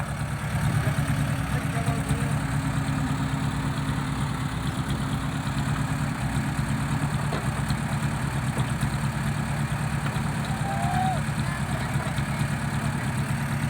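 Six-wheel dump truck engine idling and running steadily throughout, a continuous low rumble with a faint vibrating hum and no break in the engine note.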